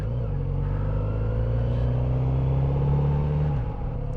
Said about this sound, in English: Just listening to the bike and seeing how that engine sounds.